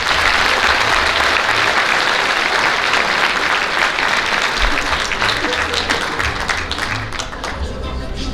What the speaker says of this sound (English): One more round of applause for Darla